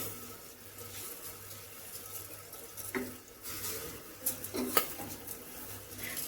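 Washed rice goes into a pressure cooker for capsicum vangibath, heard as quiet watery splashing with a few light metallic clinks of pot and utensil.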